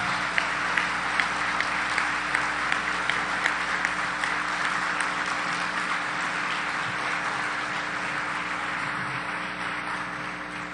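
An audience at a closing session of a forum applauds in a sustained, even wash of clapping lasting several seconds, with a few sharper individual claps standing out.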